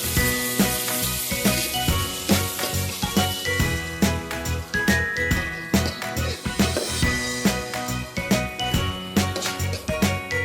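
Mysore chutney being sautéed in a pan for masala dosa produces a soft sizzle under repeated, rhythmic metallic clinks and scrapes of a spoon against the pan, close and steady throughout.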